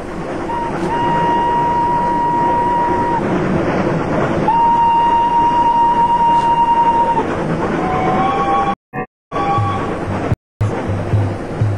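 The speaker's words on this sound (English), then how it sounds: "Jinnah took the train from Delhi." A train rumbles loudly and steadily close by, with long sustained whining tones over the roar, briefly cutting out near the end.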